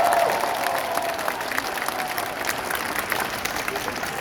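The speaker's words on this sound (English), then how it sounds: "Give them a huge round of applause." Crowd applause at an outdoor rally gathering at Martin Place in Sydney, dense sustained clapping with some cheering throughout, moderately loud.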